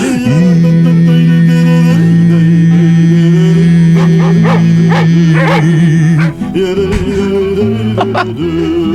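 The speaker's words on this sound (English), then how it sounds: "I'm gonna bring out John Papa, my dog. He gonna sing you a little Yiddish yodel." A dog howls and yowls in long, wavering tones as if singing along, loud and close. The howls rise and fall in pitch, with short yips and whimpers toward the end.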